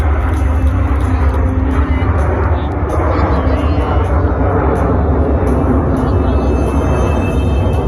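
Jet aircraft roaring overhead in formation at the 2024 California Capital Airshow, a loud steady continuous rumble that stays strong throughout, with an announcer's voice over the PA.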